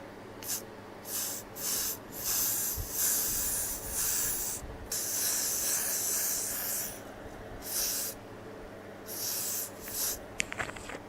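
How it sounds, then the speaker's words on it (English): Close, crisp hissing spray bursts from a spray bottle onto a hairline over a bald cap repeat about ten times in an uneven rhythm, one held a little longer than the rest. "I'm gonna take my spray and pretty much just spray my hairline."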